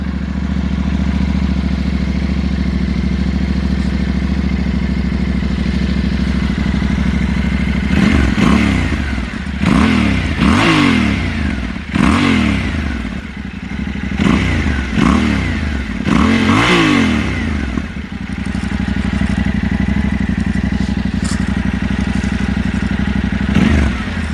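A Yamaha Tenere 700 motorcycle fitted with an Akrapovic rear silencer idles steadily, then gives a series of sharp throttle blips, each rev rising and falling quickly, before settling back to a loud, close idle.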